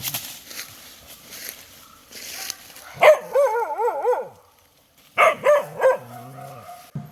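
A street dog barks nearby in a few sharp bursts mixed with wavering, whining yelps, loud and close with short quiet gaps between.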